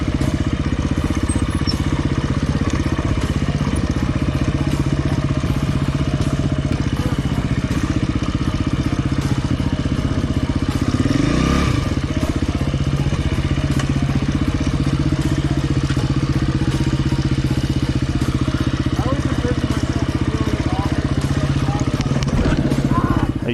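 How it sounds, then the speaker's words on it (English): A KTM 250 EXC-F four-stroke enduro motorcycle ridden on a Colorado hard enduro trail, its engine droning steadily and close throughout with a brief rising rev near the middle, no talk over it. "This time around, we're on a 4-stroke KTM 250."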